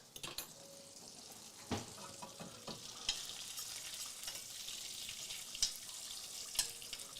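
Salmon seasoned with salt and pepper sizzles steadily in a pan as butter is basted over it, with scraping spoon sounds and occasional louder spatters throughout.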